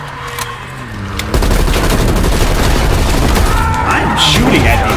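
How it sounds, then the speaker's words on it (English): Gunfire in the Call of Duty Black Ops Cold War campaign on realism difficulty, a loud sustained burst of rapid shots and booms that starts abruptly and runs to the end. "I'm shooting at these guys."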